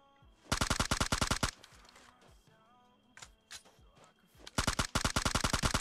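Automatic rifle gunfire in PUBG Mobile, two rapid sustained bursts of sharp shots near the start and end, with quieter game noises in between.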